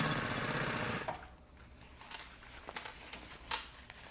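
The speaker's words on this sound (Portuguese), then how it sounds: "E costura bem na beiradinha." A sewing machine stitching backpack lining along the edge, a steady close buzzing run for about a second that stops, followed by faint handling clicks and rustles.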